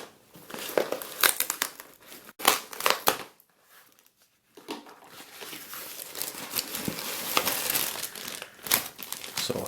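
Tough duct tape is torn and peeled off an eBay package in close, crackly rips and crinkling bursts, with a short pause midway before more scratchy tearing and rustling of the packaging.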